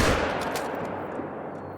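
A single close, loud shot from a .243 bolt-action rifle during whitetail deer hunting in the game Call of the Wild, a sharp crack followed by a long rolling echo that slowly fades.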